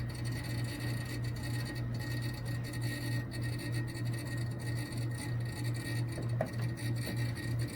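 A refrigerator compressor fitted with a URCO410 hard start kit runs with a low, steady electrical hum that pulses faintly, alongside a soft rasping rub, quiet and continuous, with no talking.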